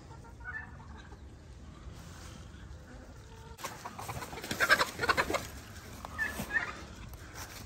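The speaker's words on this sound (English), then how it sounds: "Look at all those chickens." A flock of chickens clucking outdoors among trees, soft and scattered at first, then louder and busier in the second half with overlapping clucks and faint insect buzz.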